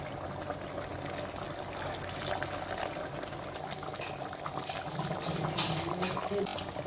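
Coconut milk goes into a simmering chicken curry with coconut-poppy paste, a steady close wash of bubbling and liquid pouring that swells slightly near the end, with no talking.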